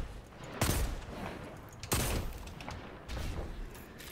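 Pistol fire in Destiny 2: three separate sharp shots spaced about a second or more apart, each with a short decaying tail, over a noisy game background with no speech.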